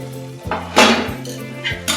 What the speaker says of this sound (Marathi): आता आपण झाकण काढून बघूया.